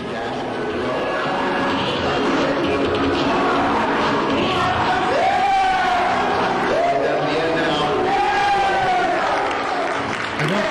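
At an EVO East 2006 fighting game tournament victory, a crowd keeps up a continuous noisy murmur. A man's loud yelling rises and falls over it throughout.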